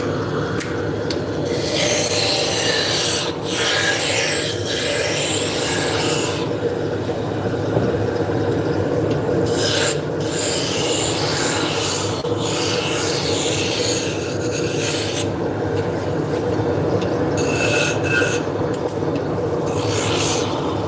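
Hard maple being turned on a lathe into Turkish drop spindles, giving a loud, steady, continuous rasping whir with rhythmic scraping pulses from the tool, close and unbroken.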